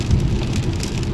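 Rain falls steadily outside on a wet day, a dense close hiss of drops pattering on surfaces with a low rumbling undertone, continuous and fairly loud with no voices.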